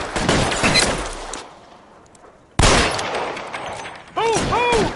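Bursts of gunfire from a shootout in the video game L.A. Noire crackle loud and close in two dense volleys with a quiet gap between them. Shouting voices cut in during the firing.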